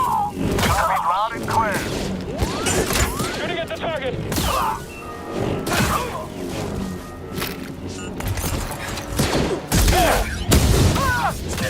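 Blaster gunfire from a Star Wars video game sounds in repeated bursts alongside booms, whooshes and clanks, loud and close, while synthetic game voices and chatter talk over much of the action.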